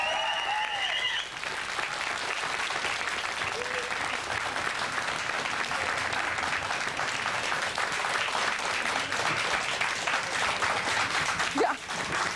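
Fans in a Dutch studio audience applaud a band, a sustained wash of clapping that holds steady throughout, with a brief voice at the start and a cheer near the end.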